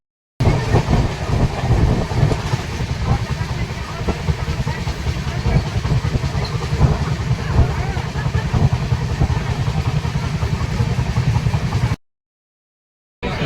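A passenger train runs toward Medinipur station with a steady, loud rumbling roar of wheels and carriage noise that cuts off abruptly near the end.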